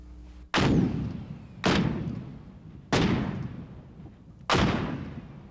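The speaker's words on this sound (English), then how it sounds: "Strings are attached and then from a safe distance pulled to detonate them." Four land mines are set off one after another by pulled strings, each a heavy distant boom with a long rumbling decay, spaced about a second or more apart, no voices.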